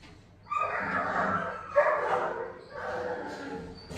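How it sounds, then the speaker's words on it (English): A dog barks and yips in the distance, muffled bursts in the background while someone talks over them. "there you heard more barking from someone in the background"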